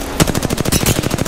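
Rapid automatic gunfire from a video game shootout against an opposing team, a loud, dense burst of evenly spaced shots rattling on without pause.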